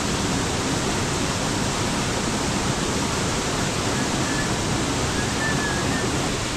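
Steady, loud broadband rush of a waterfall at the end of a river trail, continuous roar with no breaks and no voices.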